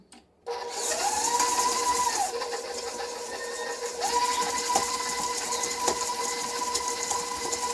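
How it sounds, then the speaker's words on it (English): An electric mixer starts up and runs on low through cookie dough of butter and brown sugar, a steady close motor whine with slight pitch shifts as it works. "I'm going to put the mixer on low, and I'm going to mix this until it's combined"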